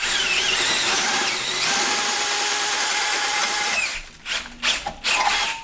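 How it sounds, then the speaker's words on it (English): A drill press bores half-inch holes with a steady, loud mechanical whine for several seconds, then winds down into scattered clunks and rattles as the bit comes free. "I hate drilling half-inch holes. Why don't you put it in the drill press?"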